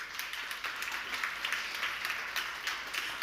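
Moderate applause from an audience at a housing energy-efficiency conference, steady overlapping clapping heard from some distance and fairly soft throughout.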